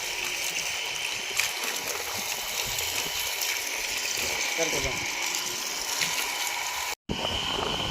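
Water from a running motor pump gushes into a newly built tank in a continuous rushing stream with a faint mechanical hum, heard close and fairly loud throughout.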